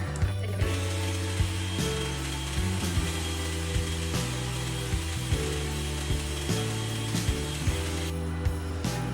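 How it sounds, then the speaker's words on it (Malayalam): Electric hand mixer beating cake cream in a bowl, a steady close motor whine with repeated knocks and taps of the beaters against the bowl, no talking. "ഇനി ഹാൻഡ് മിക്സർ വെച്ച് തന്നെ നന്നായിട്ട് ബീറ്റ് ചെയ്തെടുക്കാം"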